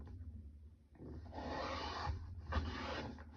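A paper trimmer slices through a stack of 6x6 paper squares corner to corner, making a soft rasping cut that swells for about a second, then a second shorter scrape, close and quiet.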